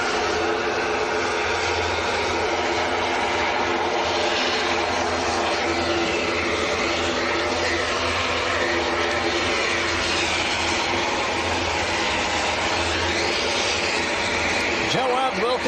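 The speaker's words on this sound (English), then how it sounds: "Aer Lingus' ATR just about to line up" Aer Lingus ATR 72 turboprop lining up at Manchester airport, its engines a steady broad drone from a distance, continuous and moderately loud, with people talking over it.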